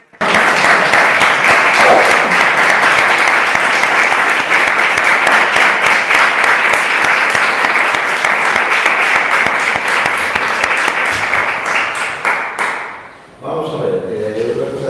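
Loud, sustained audience applause at a writers' gathering, a dense, even roar of clapping that carries on for about thirteen seconds before dropping away, after which a voice briefly speaks.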